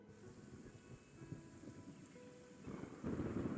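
Rain and thunder in the Sumeru area of a video game give a steady, soft rumbling wash that swells louder near the end, with faint tonal music underneath.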